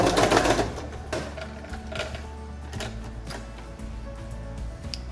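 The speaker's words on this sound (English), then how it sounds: "I'm about to sew the elastic onto the backside of my upcycled face mask" A sewing machine stitches elastic onto the back of a face mask made from an upcycled old shirt. A loud burst at the start gives way to steady mechanical ticking with a low motor hum, close up and without talk.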